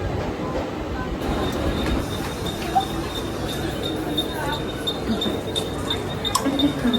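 Rumbling local train noise at Bandra station with rail clatter and a faint high squeal, people's voices murmuring beneath the steady roar.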